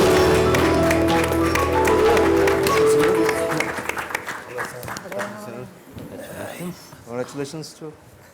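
An audience at the Shark Tank India Season 4 press conference applauds to welcome a guest on stage. The clapping blends with loud music for a few seconds, then fades as people start talking.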